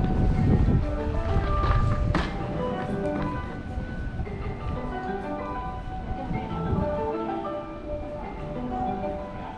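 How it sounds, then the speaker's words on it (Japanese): A Kintetsu local train rumbles and clatters steadily as it pulls into Tsuruhashi Station, Osaka, with tonal chimes ringing over the noise. "Local train bound for Takayasu is arriving at track"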